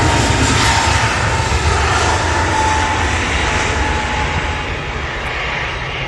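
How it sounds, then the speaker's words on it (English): Jet engine roar of a TUI Boeing Dreamliner at Manchester Airport, a loud steady broadband rumble holding throughout with a faint tonal whine, no talk over it. "This is the TUI Dreamliner going to Malaga"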